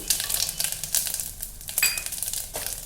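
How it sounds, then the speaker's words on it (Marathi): Cumin seeds and peanuts crackling in hot oil in a pan, a dense continuous sizzle with bursts of popping and stirring, close and loud, no voices. "तेल छान गरम झालेलं आहे आपण त्याच्यामध्ये आता जिरं घालूया एक चमचा जिरं घालूया शेंगदाणे घालू"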